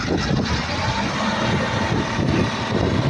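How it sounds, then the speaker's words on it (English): A CAT 950H wheel loader engine runs roughly with a steady, rough drone throughout, loud and continuous with a low rumbling undertone, idling unevenly. "The engine sound is not normal."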